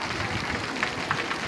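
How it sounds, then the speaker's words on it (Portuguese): Rain falls hard at Poço das Trincheiras, Alagoas, near a mango tree, making a soft, continuous wash of patter with a few louder drops. No voices are heard. "Olha a chuva!"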